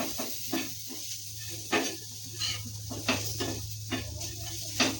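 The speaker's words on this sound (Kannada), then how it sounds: "ಚೆನ್ನಾಗಿ ಫ್ರೈ ಆಗ್ತಿದೆ." Potatoes fry in a pan with a soft, steady sizzle, broken by clinks and scrapes of a utensil stirring against the cookware, near and moderately quiet.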